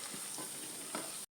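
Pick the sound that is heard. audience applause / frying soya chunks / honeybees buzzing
frying soya chunks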